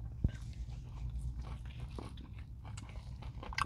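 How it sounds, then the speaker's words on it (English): A Taco Bell Double Steak Grilled Cheese Burrito with crunchy red strips inside is eaten up close, with one sharp bite at the start and then soft, steady chewing and crunching, with no talk. "The red strips inside definitely have a nice crunch, a little crunch to it."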